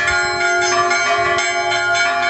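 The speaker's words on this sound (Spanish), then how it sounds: "con el toque de campana" A church bell in Puebla del Prior, Badajoz, Spain, rings loudly and continuously to open a town festival, its bright metallic tones overlapping and sustaining with no pauses.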